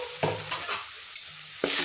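Onion frying in a pan with turmeric, salt, cumin powder, coriander powder and red chili, giving a soft sizzle broken by several brisk scraping stirs of a spoon against the pan.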